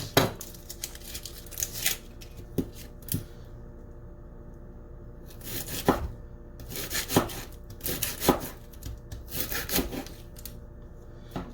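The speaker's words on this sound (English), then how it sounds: "the first thing I'm going to do is chop all of my vegetables. So I'll start with the onion." A knife cutting through an onion on a board while vegetables are prepped for a pork and bok choy stir fry, giving several close, irregular chops and scrapes with short pauses between them, with no voices.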